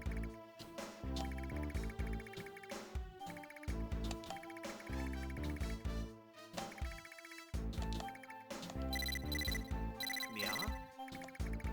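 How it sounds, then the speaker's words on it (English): Telephone ringing in the video game Lunar Knights, a repeated electronic ringtone in bright, choppy bursts over busy game music, continuing for several seconds with no talking. "Phone's ringing."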